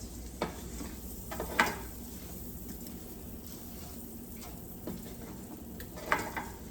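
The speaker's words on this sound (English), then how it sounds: "you can hear the sizzling" A steady, soft sizzle of vegetables frying in a pan with butter and water carries on throughout. A few sharp clinks of a utensil against the pan punctuate the close, continuous hiss. There is no talking.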